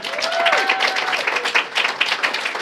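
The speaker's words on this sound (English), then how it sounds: "Can you give them a round of applause?" An awards ceremony crowd applauds with dense, steady clapping that carries on throughout, with a few voices mixed in.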